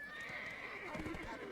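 A horse in the game Black Desert Online gives a short whinnying neigh, a brief rising-and-falling call that is faint, with hooves clip-clopping under it.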